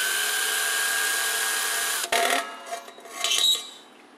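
A steady, high-pitched drill whine runs for about two seconds as it bores into a coffee can, then stops abruptly, followed by a few brief scraping and grinding bursts close by.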